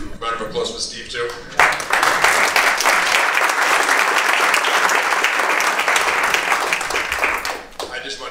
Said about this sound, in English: And thanks so much to you. Round of applause for Steve